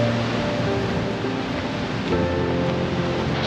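Heavy water rushes over Goðafoss in Iceland, a dense, unbroken roar heard close up, steady in level with no voices.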